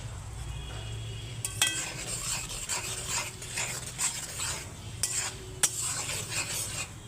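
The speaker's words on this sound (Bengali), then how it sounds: "পেঁয়াজের সঙ্গে ফোড়নটা ভাজা হয়ে যাবে" Panch phoron spices fry with onion in a pan for khichuri, a soft sizzle under scraping stirs and a few sharp metallic clinks of a spoon against the pot.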